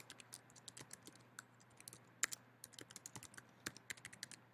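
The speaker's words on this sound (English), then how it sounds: "So to log in, you just type in your email" An email address is typed on a computer keyboard in quick, irregular bursts of close, light key clicks, with one sharper keystroke partway through and no voices.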